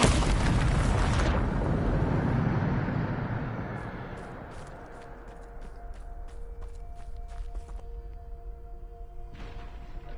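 A Bombarda explosion spell in a Harry Potter video game lets off a loud booming blast that rumbles and fades over several seconds, followed by scattered clicks and small debris-like ticks and a steady low hum.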